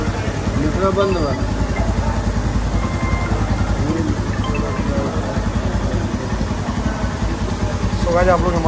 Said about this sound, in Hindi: सो गाइस आप लोग हिमालयन की आवाज़ सुन पा रहे होंगे कैसी है